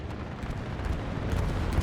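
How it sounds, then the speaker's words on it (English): Deep rumbling explosions from an aerial bombing run in the Hell Let Loose video game, a continuous heavy low roar that builds slightly over its short span, with no voices. "Bombing run going westwards!"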